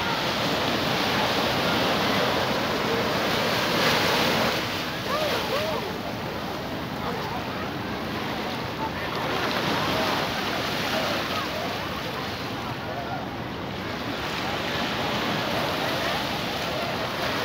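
Ocean surf at Agua Dulce beach in Lima, Peru, a continuous loud wash of breaking waves and wind noise that fills the whole scene, steady and close with slight swells in intensity.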